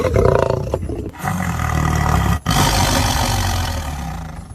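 Big cat, lion or tiger, roaring loud and close: deep, rumbling growls in two long bursts separated by a short gap, heavy low-end throughout.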